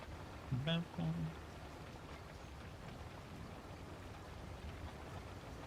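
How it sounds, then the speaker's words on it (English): Steady, even hiss of rain falling in a video game world, soft and continuous throughout, with a brief voice near the start. "I have noticed they've changed the way it rains a little bit."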